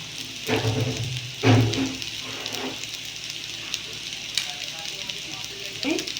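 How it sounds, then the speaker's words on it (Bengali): Cheese pasta being stirred with sauce in a hot pan, with close, steady sizzling and crackling and a few louder bursts as the food is turned. "ভালো করে নেড়ে নেবো অল্প সস দিয়ে দেবো এর মধ্যে"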